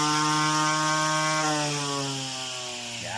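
A small portable grass cutter engine runs steadily at close range, its buzzing harmonics holding a constant pitch before easing slightly lower near the end, with no talk over it.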